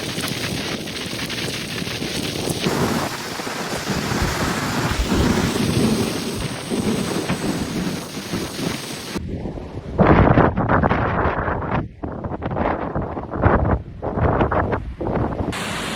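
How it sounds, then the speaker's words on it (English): Typhoon Bavi lashes Ishigaki, Okinawa with heavy rain and sudden wind gusts, a dense roaring downpour with buffeting bursts that hit the microphone hard, loud and continuous without voices. "Heavy rain swept across Ishigaki with little warning, followed by sudden wind gusts that sent debris flying and reduced visibility within minutes."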